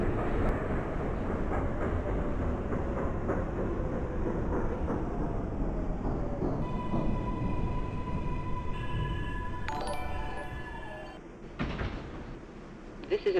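An MTA F line subway train in the openBVE simulator rumbles steadily along the tracks, then slows with rising brake squeals and a hiss near the end.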